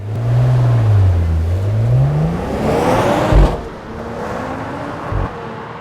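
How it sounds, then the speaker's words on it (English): A Mercedes-AMG CLE53 heard from outside surges and dips as the revs wander, then climbs hard before two sharp pops or thumps as the note drops to a quieter drone, with no voices. "the sound of the car from the outside,"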